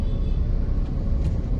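Local vehicles crawling along a narrow road, a dense, continuous low engine rumble close by.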